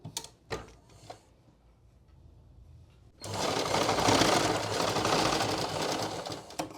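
After a few faint handling taps and a near-quiet pause, a sewing machine hemming the bottom of a salwar starts up and runs at full speed, a loud, dense mechanical whirring close by.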